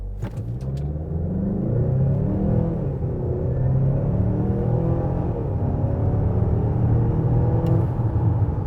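2021 Mazda CX-5 turbo pulling hard from a standstill to 100 km/h, a continuous deep engine rumble rising through the gears heard from inside the cabin, loud and steady with no voices.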